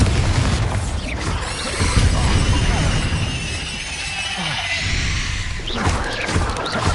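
A Bombarda spell blast in Hogwarts Legacy on PS5 erupts as a loud, sustained booming crash with rumbling debris, filling the whole moment with dense game combat noise and no voices over it.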